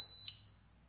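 A Glimstone biometric pistol safe gives a single short, clear electronic beep as its set button is pressed, close and alone, fading quickly into quiet.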